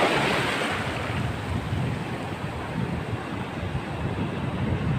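Big ocean waves surging and breaking around a small boat at sea while lobster nets are laid, a dense continuous roar of surf and wind buffeting the microphone, with no voices.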